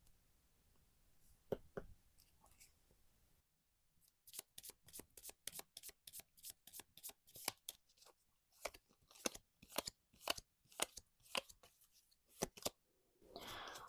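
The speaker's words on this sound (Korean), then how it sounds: "다른 레노먼드 카드 5장으로 뽑을 거고요" Lenormand cards being shuffled and drawn: a soft riffle, a short pause, then a quick run of crisp, close card snaps and flicks, each one distinct, ending in a longer rustle.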